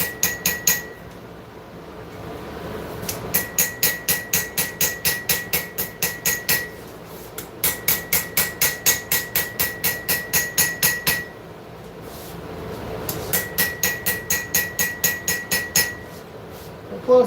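Steel hammered at forging heat, about 1850 to 1900 degrees, in fast rhythmic runs of sharp ringing blows, several bursts separated by short pauses, close and loud with no talk.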